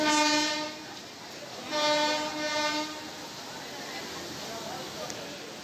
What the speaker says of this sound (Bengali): আমাদের সামনেই ট্রেন ঢুকছে শেওড়াফুলি স্টেশনে।